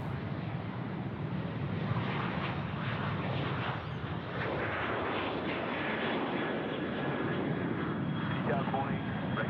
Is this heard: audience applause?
no